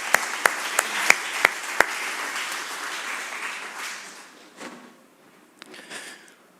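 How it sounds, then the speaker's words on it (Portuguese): A church congregation applauds at a sermon, a dense wash of clapping with a few sharp louder claps near the start, then fading and thinning out into scattered claps at the end. "Pode dar uma salva de palmas para esses 4 aí?"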